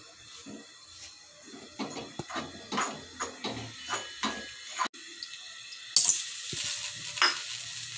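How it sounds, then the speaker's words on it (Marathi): Water sprinkled onto a hot tava for an amaranth-flour bhakri sends up bursts of hiss and sputter close by, sharpest toward the end, with scraping and clattering in between. "पाणी टाकलं, तवा गरम झालाय।"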